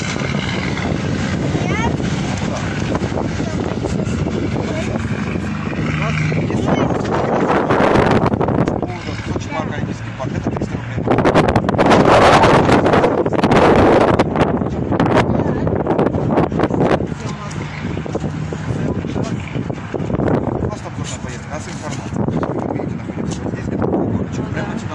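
Cold, piercing wind blows outdoors at the Olympic Park in Sochi, buffeting the microphone in a continuous gusty roar that surges loudest through the middle stretch.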